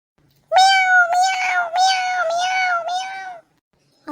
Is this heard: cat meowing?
yes